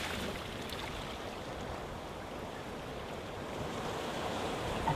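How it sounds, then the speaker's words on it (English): Ocean waves in a continuous, even wash of surf noise, moderately loud and steady throughout, with wind texture and no voices. "and listen to the ocean."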